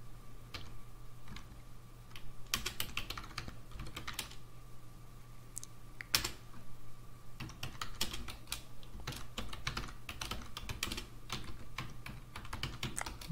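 Computer keyboard typing in rapid irregular bursts of clicks over a steady low hum, entering text into a file while editing a network connection script, close and moderately loud with no talking.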